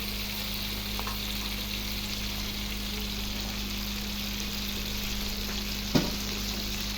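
Garlic frying in a pan ahead of crab with butter and oyster sauce gives a steady, even sizzle throughout, with one brief clatter near the end and no talking.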